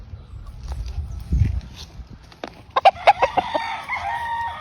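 A Golden Boy sweater cross gamefowl rooster on a game farm crows loudly and close by, a stuttering series of sharp calls following some low rustling and thumps.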